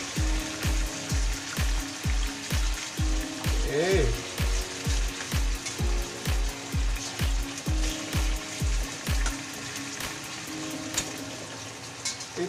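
Pork pieces for Filipino pork humba fry with a constant sizzle in a pan, overlaid by a regular series of soft thumping knocks. A voice speaks only briefly.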